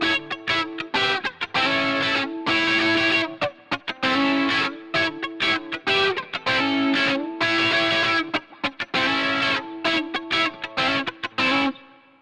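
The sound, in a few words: semi-dirty electric guitar with phaser effect, Helix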